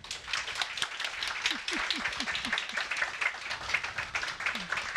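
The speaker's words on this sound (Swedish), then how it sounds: "vi ger väl panelen en applåd nu." A seated audience applauds a panel after a discussion about violence in the emergency department, a soft, continuous patter of many hands at a distance, with a few faint vocal sounds underneath.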